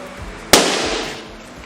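A balloon at a birthday celebration bursts with a single sharp, loud pop, followed by a short fading decay.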